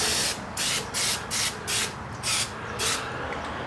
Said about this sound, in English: Now we're gonna take the fluid film.